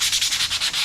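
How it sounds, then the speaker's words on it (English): Close, rhythmic rubbing strokes of sanding on the body of a 1973 Ford F100, around six quick back-and-forth passes in under a second, loud and dry, with no voices. "So let's start sanding."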